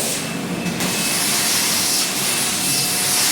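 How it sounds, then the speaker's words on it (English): A Kaivac cleaning machine's vacuum runs with a loud, steady broadband roar and hiss, continuous throughout with no talking. "And that's the vacuum."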